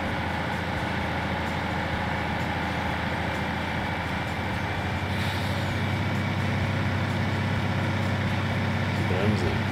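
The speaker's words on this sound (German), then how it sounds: "Und da bremsen sie ja mit Luft." Truck air brakes in Farming Simulator 19, a short hiss near the end over a steady rumbling engine drone, with traffic noise throughout and faint background talk.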